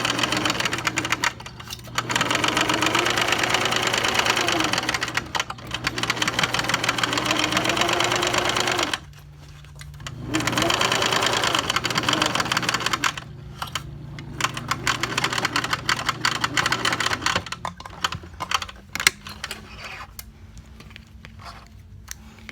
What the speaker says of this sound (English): So now I'm going to top stitch along the edge here, and then all the way along the edge here.